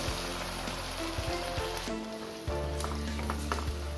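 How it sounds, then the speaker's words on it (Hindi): Small pieces of boiled taro (arbi) fry in a pan with oil and asafoetida, making a steady, fairly soft sizzle broken by a few light clicks and knocks from stirring. "हम डालेंगे अरवी, इसके हमने छोटे छोटे पीसेस कर लिए हैं"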